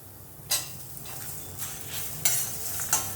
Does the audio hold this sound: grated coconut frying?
yes